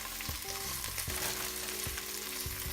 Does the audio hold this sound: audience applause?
no